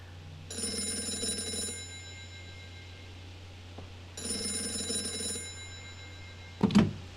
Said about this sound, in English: How did you know the phone would ring just now?